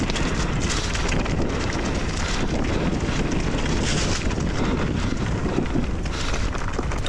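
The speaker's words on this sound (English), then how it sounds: "the wind's bad enough that I'm just getting blown around" Strong gusting wind roars steadily across the microphone on a mountain bike trail at Highland bike park. It is a dense, continuous rush with no break and no voices.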